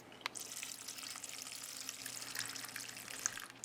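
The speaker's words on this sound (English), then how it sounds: "just plop them down in the pot and cover them with filtered water" Filtered water pours into a pot of rinsed chickpeas, a steady soft splashing hiss that runs evenly through the whole stretch at close range, with no voices.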